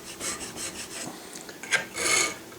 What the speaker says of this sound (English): I'm going to go ahead and file a little bit